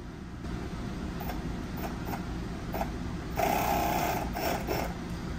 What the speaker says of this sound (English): The motor's going the wrong direction